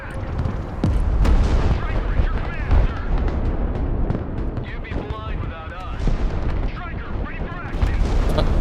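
Booming HIMARS rocket artillery fire in the Broken Arrow video game, heavy repeated blasts and rumbling launches packed densely throughout, loud and continuous with mixed battle noise.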